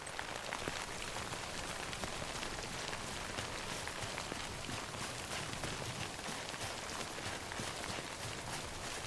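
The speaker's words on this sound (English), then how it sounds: "Don't stay out in the rain any longer than you have to." Timefall rain pours steadily in Death Stranding, a dense, even hiss of drops on surfaces with no letup, loud and unbroken throughout.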